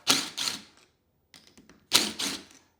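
Two 5/16 screws being backed out of the plastic intake on a Briggs and Stratton riding mower carburetor, heard as close mechanical clicks and rattles in two bursts with a short scraping pause between them.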